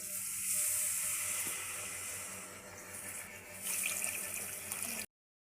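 Water pours steadily into a pot for rice flour rava upma, with a broad, hissing rush that shifts slightly in tone partway through, then cuts off.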